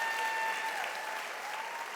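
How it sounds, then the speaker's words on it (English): Audience applause for a chapel worship leader, a steady, moderately distant wash of clapping that holds evenly for the full two seconds, with a faint tonal hum running underneath and no talk. "Everybody give Ashley a big round of applause."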